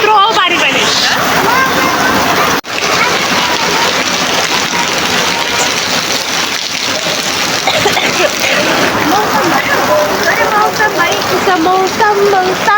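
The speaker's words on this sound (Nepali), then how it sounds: "यस्तो दामी पानी पऱ्यो नि हेर्नु है।" Heavy rain pours down in a dense, continuous hiss and splatter, loud and close, with faint voices murmuring underneath.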